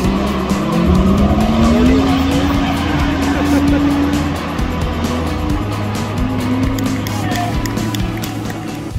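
Drift cars at a grassroots drifting round at Mission Raceway Park, with a long continuous tire squeal and a loud engine roar running throughout, close and steady.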